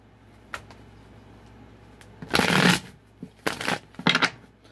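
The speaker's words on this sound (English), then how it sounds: "Go ahead, give it two more shuffles." A deck of tarot cards is shuffled close by, two quick riffling bursts followed by a few shorter flutters and taps of the cards, with quiet room tone between.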